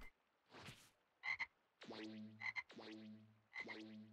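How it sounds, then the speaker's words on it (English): Cartoonish frog croaks from the video game Dragon Ball Xenoverse 2, several separate ribbiting calls in an uneven rhythm, clear and isolated with no talking. "He turned into a frog."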